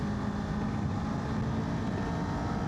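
A Kawasaki KLE 500 motorcycle pulls uphill in 4th gear, its engine giving a steady, close, broadband roar with wind rush, continuous and unbroken over a few seconds.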